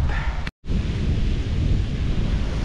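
Steady roaring wind on an open beach at El Nido buffets the microphone, a dense low rumble with a brief dropout near the start, no voices.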